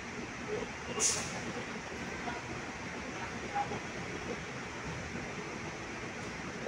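An LRT train at a station, steady rumble and hiss of rail cars filling the clip with a brief sharp burst near the start, fairly distant and even throughout.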